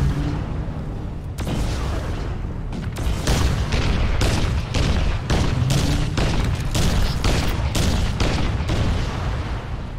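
A gauss rifle firing in Crysis Remastered, a series of heavy, loud booming shots in quick succession over a rumbling game background, with no speech.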